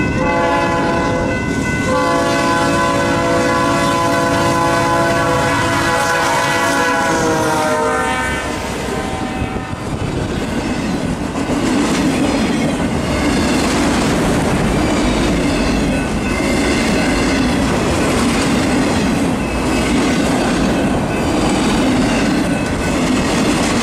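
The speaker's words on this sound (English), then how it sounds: "we saw this NS train that was heading south" A southbound Norfolk Southern freight train on the Detroit line at La Salle passes close by, kicking up snow. A horn sounds at the start, then the wheels roll and clatter loudly and steadily throughout.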